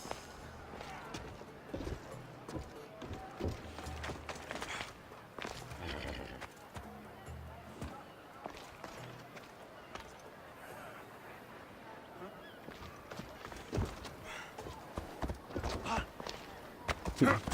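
A horse whinnies and its hooves clip-clop in Assassin's Creed Odyssey amid scattered game sounds and faint voices, with sharp knocks and rustles throughout.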